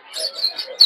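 Small cage birds, cockatiels and lovebirds, chirp and tweet at a Tongi bird market, a steady overlapping chatter of bright calls close by, ending in a louder shrill burst.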